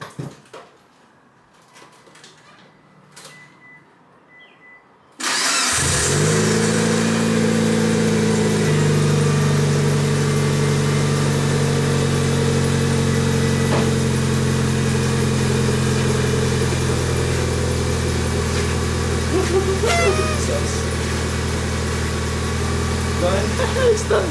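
After a few seconds of quiet handling noises, a Mitsubishi Evo 8 with a newly installed HKS Hi-Power catback exhaust cranks and catches, then settles into a loud, deep, steady idle with a throaty rumble.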